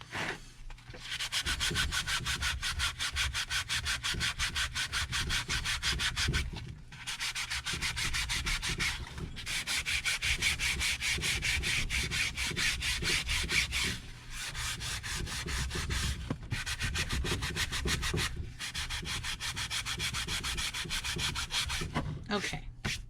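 Wood being hand-sanded with 220 grit sandpaper, a steady rasping scrape in long back-and-forth strokes with brief pauses between passes, close and fairly loud with no talking.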